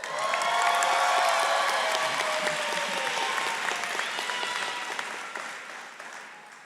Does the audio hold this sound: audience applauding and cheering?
yes